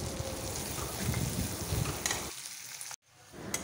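Prawns fry in hot oil in a pan with a steady, dense sizzle that crackles close up, then drops away abruptly near the end before resuming quieter.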